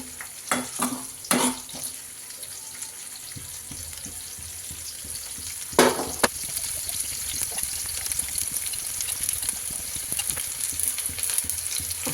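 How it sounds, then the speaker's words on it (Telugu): Peas sizzle steadily in hot oil for street-style batani chaat, with a constant bubbling hiss broken by a few sharp clinks and scrapes of stirring near the start and middle. "ఆయిల్ అయితే బాగా వేయించుకోవాలండి"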